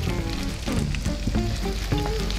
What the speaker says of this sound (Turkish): İçine balıklarımızı ekleyeceğiz.